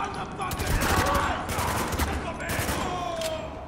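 Gunfire in the video game Spec Ops: The Line, a sustained fusillade of overlapping shots, loud and continuous throughout, with game voices mixed in.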